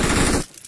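A rapid spray of automatic gunfire in PUBG Mobile rattles loud and close, then cuts off abruptly after under half a second, leaving faint residue.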